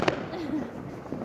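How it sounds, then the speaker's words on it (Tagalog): New Year firecrackers go off with one sharp bang at the start and a few fainter pops near the end, heard from a distance in a quiet outdoor setting with a faint voice in between. "Ganyang paputok."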